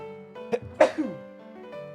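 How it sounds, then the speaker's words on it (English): A single abrupt sneeze bursts out close to the mic, with a short catch of breath around it over a faint steady tonal background. "Oh, I gotta sneeze."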